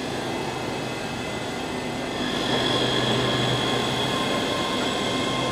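A train idles at a Scottish station on a Glasgow–Edinburgh route, giving a steady, loud rumbling hum with a faint high whine that swells slightly halfway through, with no talking.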